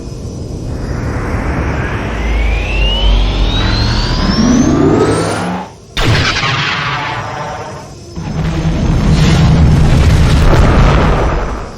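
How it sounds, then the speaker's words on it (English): A Star Wars Death Star superlaser blast destroys a Rebel cruiser: a loud sci-fi energy beam with a long rising whine, a sharp cut, then a rumbling explosive roar that swells, dips, and surges again across about twelve seconds, with no voices. "a bright beam of green light leapt from its radial cannon and incinerated an entire"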